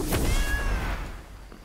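A black cat in the video game Blacktail gives a single short, fairly close meow that rises and then fades away.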